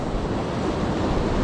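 Strong crosswind buffets the microphone on a beach while sea fishing for bass, a steady loud roar of wind and surf filling the whole moment without a break and with no voices.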